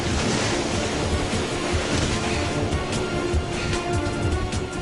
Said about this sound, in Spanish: La avalancha se estrella contra las orillas y a su paso arranca tierra